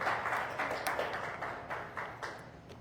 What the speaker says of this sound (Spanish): Dele otro fuerte aplauso al Señor para que no se duerma